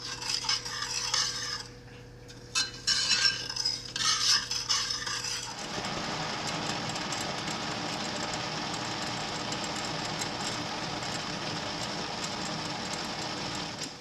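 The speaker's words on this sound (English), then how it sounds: "now I'm going to mix this up just to get it mixed" Lavender simple syrup stirred in a pot: scattered scraping and rubbing strokes against a steady hum for the first few seconds, then a dense, even rushing noise takes over and holds loud to the end, with no talk.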